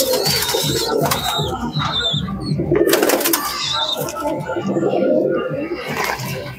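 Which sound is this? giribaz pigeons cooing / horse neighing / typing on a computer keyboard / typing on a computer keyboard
giribaz pigeons cooing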